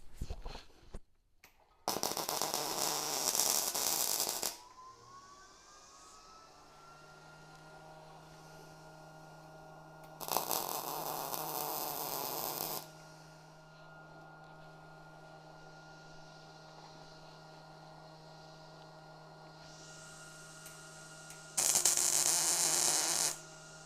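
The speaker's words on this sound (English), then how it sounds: "Now we'll tack it a couple places over on this side." Three bursts of tack welding on a steel bar for a Grizzly pry bar build, each a crackling buzz of two to three seconds, separated by quiet stretches filled with a steady electrical hum.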